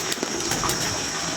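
Pigeons on a rooftop in Jhelum make soft, close cooing calls over a steady background hiss, with a few brief flutters or taps.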